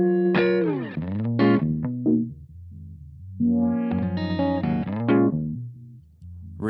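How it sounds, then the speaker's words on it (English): An electric guitar runs through a NativeAudio Niisoo pitch shift pedal in momentary mode, with notes that swoop and bend in pitch for a few moments before settling back, with short phrases separated by brief pauses. "In momentary mode, you will only hear a shift while you are holding down the shift control."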